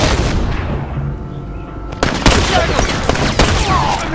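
Gunfire from The Last of Us Remastered online match in a suburbs map, a loud sharp shotgun-like blast cutting in midway after rumbling action noise, followed by further cracking shots and impacts.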